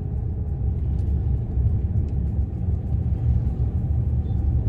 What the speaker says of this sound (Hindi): फोर्थ गियर में गाड़ी अच्छा पिकअप ले रही है